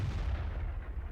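Tank gun fire in World of Tanks, a low rumbling boom that rolls on and fades across the short moment, fairly loud.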